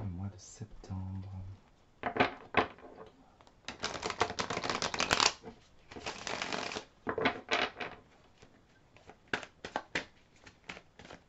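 Tarot cards being shuffled by hand, a run of papery riffling and crisp flicking bursts with brief pauses between, close and fairly quiet, with someone speaking at the start.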